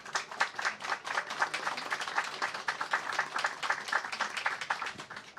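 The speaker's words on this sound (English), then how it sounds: "A round of applause for them." Audience applause at the close of a panel discussion on European security after Russia's invasion of Ukraine, a steady patter of many hands clapping at moderate volume throughout, fairly distant in the room.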